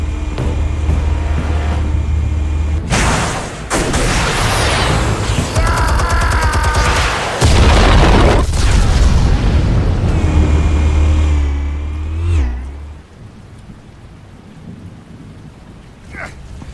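Loud, booming detonations of explosives in Batman Telltale, a heavy rumbling blast, then a second surge with crackling debris, fading to a quieter tail.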